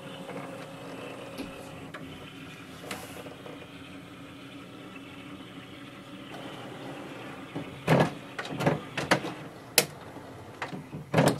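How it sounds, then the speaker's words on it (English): An HP OfficeJet Pro 9013 printer scans a page with a faint, low mechanical hum and soft whirring, followed by a few louder clicks and clunks near the end. "So it will start the scanning here."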